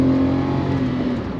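Daihatsu Mira Gino engine under full throttle, a steady, modest hum heard from inside the cabin with no talk.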